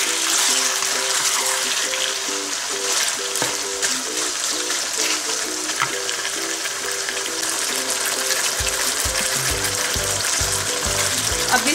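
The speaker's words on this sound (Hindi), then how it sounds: "इसको मजीद हम 5 मिनट के लिए भूनेंगे" Chicken jalfrezi fries in a pan with a steady, loud, dense sizzle that runs without a break, with some stirring and a low rumble near the end.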